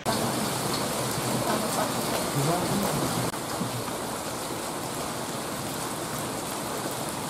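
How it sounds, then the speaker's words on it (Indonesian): Heavy rain pours down outdoors in a steady, dense hiss that stays unbroken throughout, with no clear thunder and no speech. "Semoga saja nanti reda hujannya."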